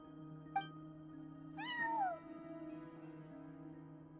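A cat meows in the Genshin Impact game world, first with one short chirp and then with a longer, clear, drawn-out meow over a steady hum of background game music.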